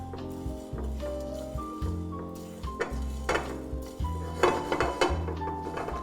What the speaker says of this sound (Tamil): ஜஸ்ட்டு நல்ல சூடான பேனில் ஒரு ஸ்பைஸையும் நல்லா வதக்கணும்.